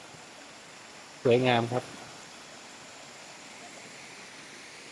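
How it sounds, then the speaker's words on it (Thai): A forest waterfall along a hiking trail roars as a steady, broad rush of falling water throughout, while someone briefly speaks over it. "น้ำตกครับ"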